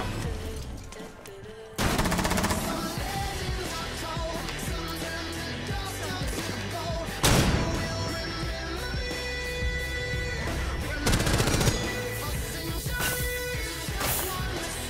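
Shotgun blasts in a Rainbow Six Siege match, a few sharp loud bursts standing out over dense game noise and music that runs throughout.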